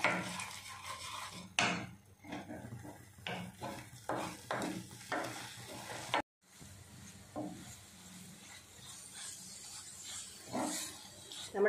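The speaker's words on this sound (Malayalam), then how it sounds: "എല്ലാം കൂടെ നന്നായിട്ട് വഴന്ന് വരട്ടെ." Paneer and green peas masala being sautéed in a pan, a spoon scraping and tapping the metal in steady strokes over a soft continuous sizzle, close by, with a brief break midway.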